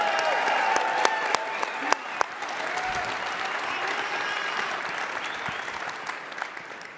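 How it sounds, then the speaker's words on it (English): An audience at a crypto conference panel breaks into steady applause, a dense patter of clapping that holds for several seconds before thinning out. "Let's give him a round of applause for doing it."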